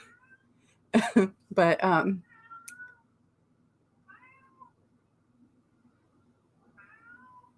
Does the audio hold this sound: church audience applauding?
no